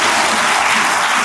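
A church congregation claps loudly for God during a sermon, a brief, dense wash of applause close by.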